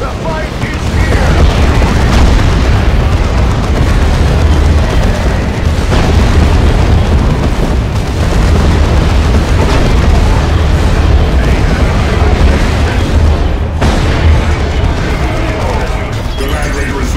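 Continuous heavy booming and blasts from bombardment cannons in Warhammer 40,000: Dawn of War II – Retribution pile up in a dense, loud barrage, with shouting voices mixed into the chaotic battle din.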